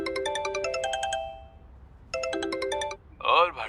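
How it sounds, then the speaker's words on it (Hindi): A phone rings with a melodic electronic tone in two bursts separated by a pause, as a sound effect in a Hindi horror podcast. A voice sounds briefly right after the ringing. "भाटी वॉशरूम से बाहर निकलने को ही था कि उसका फोन बजा।"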